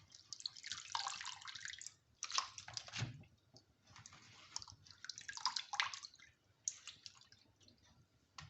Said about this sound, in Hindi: ये तीसरी दफ़ा मैं पानी में डाल रही हूँ।